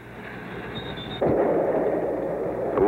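A low, heavy engine rumble swells abruptly partway through and keeps droning loudly and steadily as a New York Central diesel-electric locomotive rolls out of a freight yard service area.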